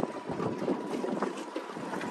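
A motorboat speeding across Lake Annecy, heard as a steady, moderately loud engine drone mixed with wind buffeting and water rush, no voices present.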